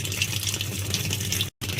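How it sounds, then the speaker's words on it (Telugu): Washing machine drawing in water for a tub-clean cycle, a steady broadband rushing gush with low motor hum, continuous and close, with one brief dropout near the end. "సో ఇప్పుడు వాటర్ తీసుకుంటుంది కదా"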